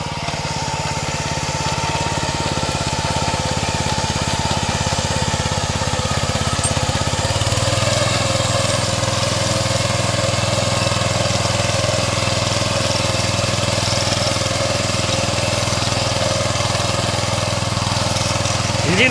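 A Kamco reaper machine cutting crop in a field runs its engine loudly and continuously, a steady droning rumble with a firm low hum that deepens partway through and holds to the end.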